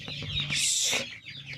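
Poultry chickens on a farm cluck and chirp close by, with one louder, brighter call rising in the middle of the short stretch.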